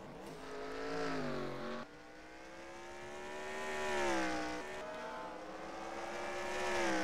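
Race car engines scream during a NRX Meijer Cup race at Detroit Belle Isle, loud rising and falling revs with sharp gear shifts as cars pass close by, no voices heard.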